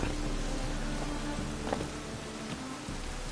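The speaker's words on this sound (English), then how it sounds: "Witches have conjured rain again" Steady rain hiss in a PS4 video game, a dense broadband wash filling the whole stretch at an even level with a few faint scattered tones beneath, no speech.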